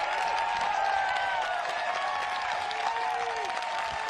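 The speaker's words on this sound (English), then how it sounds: "You hear the roar of the crowd." Crowd at a women's disc golf championship final round roars and applauds a made jump putt, a dense, steady wash of clapping and cheering with no clear voices on top.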